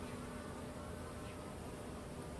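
A constant, close swarm-like hum of honeybees rises from an open hive during a spring brood check and feeding, loud and unbroken throughout.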